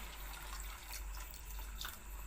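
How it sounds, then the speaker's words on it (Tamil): A glass of water pours into a cooking pan for murungakkai kara kuzhambu, drumstick curry, making a faint, steady splashing trickle throughout with no voices. "இப்போ நம்ம ஒரு கிளாஸ் தண்ணி நான் ஆட் பண்ணிக்கிறேன்"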